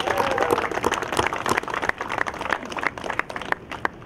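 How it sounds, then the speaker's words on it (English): A crowd of hospital staff applauds front-line workers during a National Nurses Day event, dense scattered clapping with a few louder claps, fairly close and steady for about four seconds. "So let's first have a round of applause for everybody on the front lines"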